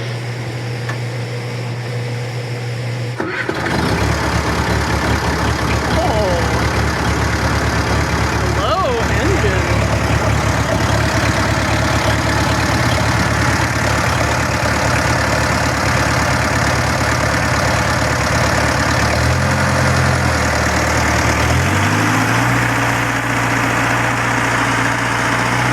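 A skid steer engine catches after starting and then runs at a steady, loud, close idle, with a brief change in pitch near the end and no speech.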